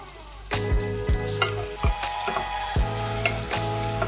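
Slit green chillies sizzle in a hot pan, with repeated spoon or spatula strokes scraping and clinking against the metal as they are stirred, close up.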